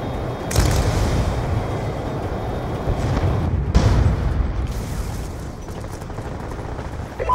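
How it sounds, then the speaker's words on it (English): A Hellstorm missile strike in Black Ops II Hardpoint on the Standoff map, heard as loud, continuous rumbling explosions with a couple of sharper booming bursts layered over sustained low roar. "Friendly Hellstorm missile inbound."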